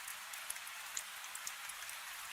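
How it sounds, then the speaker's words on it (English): Steady rain with scattered drops ticking on a surface, a constant close hiss with no voices. "It's rainy today."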